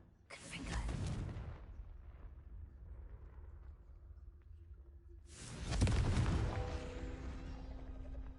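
Two Confringo spell blasts from a Harry Potter video game go off a few seconds apart, each a sudden whooshing explosive burst that fades into a quiet rumbling tail.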